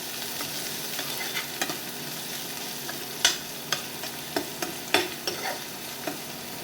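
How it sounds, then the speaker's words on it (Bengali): Onions stir-fry in a pan for egg and potato korma, a steady low sizzle broken by a handful of sharp scraping clicks from the spatula, close and moderately quiet with no talking. "দিয়ে ভালো করে আমি নেড়ে চেড়ে নেব।"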